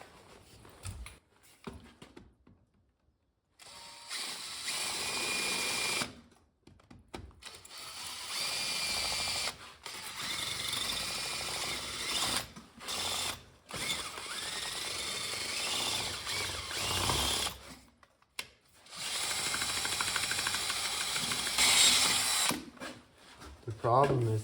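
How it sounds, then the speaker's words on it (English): A plain rotary drill without hammer action bores steadily in long continuous runs with brief pauses between passes, loud and close, during work on a welding fume extraction system. "this isn't a hammer drill. This just turns. It doesn't hammer in, so it's gonna take forever."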